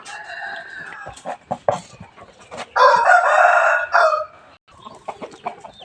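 Chickens cluck close by in short, bursty calls while a rooster crows loudly in the middle, with scattered farmyard bird sounds around it at a temple yard in Lampang, Thailand.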